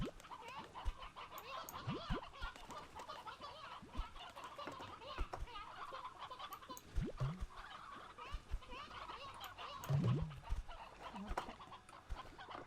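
Chickens in the video game Slime Rancher 2 cluck and squawk now and then over a busy, low-level game background. The calls come in short, scattered bursts and no one speaks.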